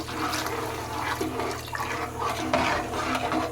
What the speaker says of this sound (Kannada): ಇವಾಗ ನೀರು ಹಾಕಬೇಕು